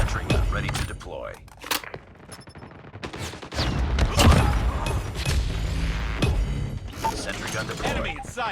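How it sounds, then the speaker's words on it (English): A sentry gun deploys in a first-person shooter video game, with mechanical clanks and whirs amid loud, near, continuous gunfire and thuds. A voice talks over the action. "Sentry gun deployed"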